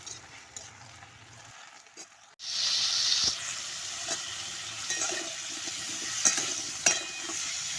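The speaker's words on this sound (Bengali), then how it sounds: "এখন আমি মাছ ঝরিয়ে নিয়ে তারপরে এদিকে শাকটা বসিয়ে দিলাম" After a quiet start, leafy greens (shak) hit hot oil in a pan, setting off a sudden loud sizzle that keeps hissing steadily, with a few soft stirring clatters.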